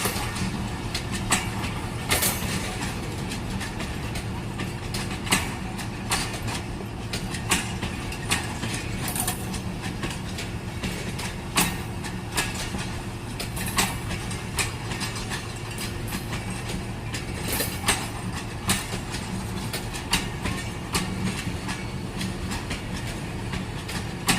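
Awam Express train on the Pakistan rail line, steady rumble and rattling of railcars with frequent clanks and knocks from the wheels and couplings, continuous and fairly close.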